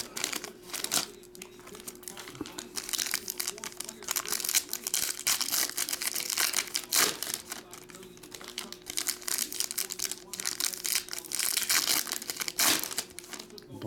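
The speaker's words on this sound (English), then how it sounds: "That is the hardest part with Chrome Black, getting them out of all that packaging." Topps Chrome Black baseball card boxes being pulled from their packaging, with continuous crinkling and crumpling of wrap and plastic, close and steady for the whole stretch, with a few sharper tearing bursts.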